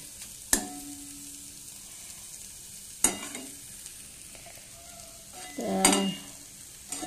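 Maggi instant noodles with egg frying in a pan as they are stirred together: a steady sizzle under a few sharp scrapes and knocks of the spoon against the pan, close up, with no talking.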